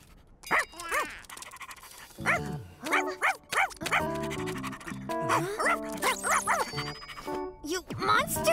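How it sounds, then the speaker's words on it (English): A cartoon puppy pants and yaps in an animated kids' dinosaur adventure, quick breathy bursts and small barks layered with music and excited character voices throughout. "That's just a puppy, not a monster!"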